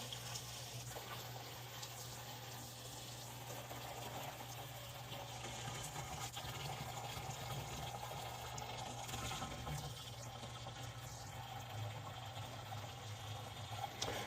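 A jerry can fills with spot-free water from a hose, a steady, faint, continuous rush of running liquid with a low hum underneath throughout.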